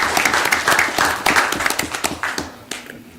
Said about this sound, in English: Y'all give those another round of applause.